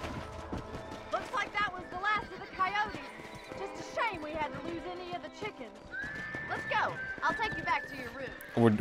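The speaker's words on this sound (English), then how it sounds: "I don't remember the horse running being so annoying in this game." A horse running in Red Dead Redemption, with clopping hooves, repeated neighs and whinnies and snorting, close and fairly loud, while people talk throughout.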